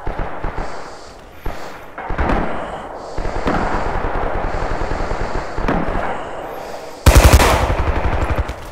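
Gunfire in the World War II shooter game Rising Storm, with a sniper rifle in use: a dense, continuous rattle of battlefield shots and bursts, ending in a louder, close, sharp crack near the end.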